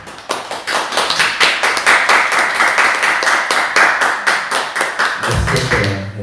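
A church congregation claps in encouragement during a Sunday worship service. The clapping is loud and close, with fast, rhythmic beats that stay even for about six seconds and then stop.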